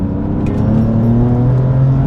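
A 600 hp BMW F82 M4 engine in Sport Plus revs hard after a downshift, a loud, steady, droning exhaust note rising in pitch from inside the cabin with no talking over it.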